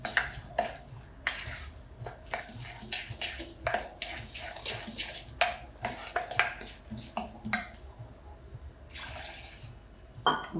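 Fasting dosa batter whisked in a bowl with a spoon, a rapid series of sharp clinking scrapes against the bowl in an irregular rhythm, close and fairly loud.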